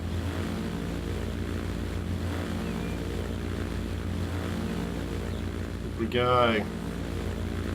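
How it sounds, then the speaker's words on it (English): A propeller airplane in the video game Transport Fever taking off, a steady droning engine hum throughout, with a person talking briefly over it near the end. "We'll take this for a bit of a flight. Alright, ready for takeoff."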